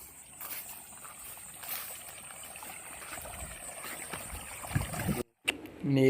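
Irrigation water runs steadily through a farm field as a soft, continuous wash and trickle, close and moderately quiet, with a brief dropout near the end.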